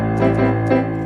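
Keyboard sustains a bass octave under a held chord, steady and loud for about a second with no talking.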